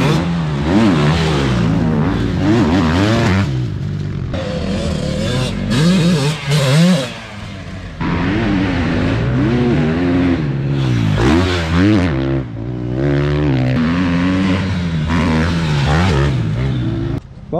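A motocross motorcycle lapping a dirt track, its engine loud and close, revving up and down continuously with shifting pitch through gear changes and throttle blips.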